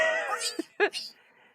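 Short, high, wavering cat-like cries from a person in a rubber creature costume, a brief cluster of meow-ish calls with quick pauses, fairly close and moderately loud.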